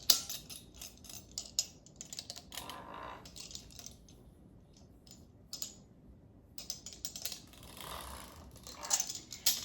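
Homemade pasta dough being cut into pieces and rolled out in a home kitchen, with soft, scattered snipping and tapping sounds in irregular bursts, fairly quiet and close, with no talking.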